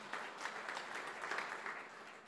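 Applause from a church audience during a sermon by Pdt. Lukas Kusuma, a steady, fairly soft wash of many hands clapping with a few sharper claps standing out.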